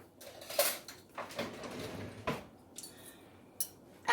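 A spoon picked out in a kitchen while plating mushroom risotto: several sharp metallic clinks and rattles, close and distinct, with quiet pauses between them and no talk.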